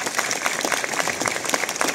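An audience claps at an opening ceremony in a brief, dense burst of steady applause filling the whole moment.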